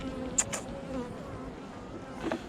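Bees buzz softly nearby, a low droning hum with a couple of insects passing close to the microphone.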